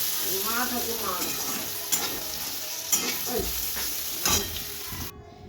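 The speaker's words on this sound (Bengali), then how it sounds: "ভাজা চলছে আর একটু তেল বেশি করে দিয়েই কিন্তু উচ্ছেটা ভেজে নেব" Steady sizzling of vegetables frying in hot oil, with occasional stirring scrapes and clinks over the crackle.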